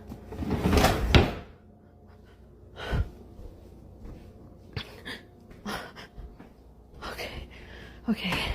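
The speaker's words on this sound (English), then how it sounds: "I can hear my kitchen cabinets banging." Kitchen cabinet doors banging in a quiet house early in the morning, a cluster of loud knocks at the start, then scattered softer bangs and clatters with faint breathing between them.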